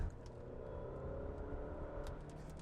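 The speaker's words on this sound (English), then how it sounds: "Let's see what its driving dynamics are like when you're really pushing the car." An Alfa Romeo Stelvio SUV pushed hard on a twisty road, heard from inside as a steady engine and road drone with a faint whir, no talking.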